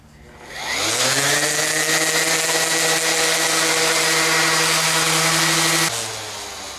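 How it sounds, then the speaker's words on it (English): A power sander shapes the curve of a wooden guitar neck, its motor spinning up into a loud, steady whine that holds for several seconds before cutting off and winding down. "I'm going to actually end up using the curve of the sander to give me a shape right down"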